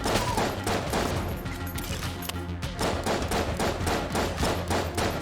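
Rapid, continuous gunfire and bullet sounds from the video game Enter the Gungeon, a dense stream of fast repeated shots with a steady pulsing rhythm, loud and close throughout the whole stretch.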